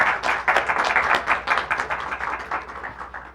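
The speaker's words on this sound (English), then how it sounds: "Big round of applause," An audience at a CCI Health Services 50th anniversary recognition claps together in a lively round of applause, dense and steady, then gradually thinning toward the end.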